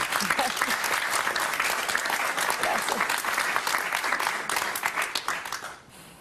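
Studio audience at a televised interview applauding, a long dense burst of many hands clapping that holds steady, then thins and fades out near the end.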